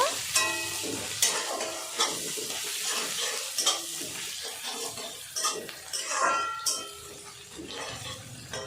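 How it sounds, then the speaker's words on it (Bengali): Ginger paste is stirred into fried onions in a pan, with a lively sizzle under irregular metal spatula scrapes and clinks against the pan, close-up with no talking. "পেঁয়াজটা ভেজে নিয়েছি এবার আমি দিয়ে দেবো আদা বাটা ভালো করে নাড়াচাড়া করে নেব"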